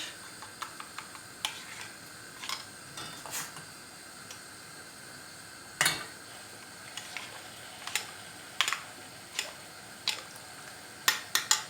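A spoon stirs boiling bean soup in a pot, with light irregular clinks and taps against the metal sides over a quiet background, some louder knocks standing out.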